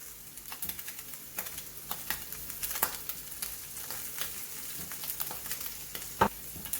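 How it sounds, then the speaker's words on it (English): Minced meat browning in oil with paprika in a home kitchen pan, a steady soft sizzle with occasional stirring scrapes and sharp pops, close and alone with no talking. "I've just added some oil and our mince, and we're just going to brown it"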